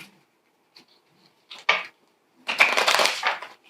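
Playing cards shuffled by hand for The Crew: The Quest for Planet Nine, heard as a few soft riffles followed by a longer, louder crisp burst of cards, close up in a quiet room.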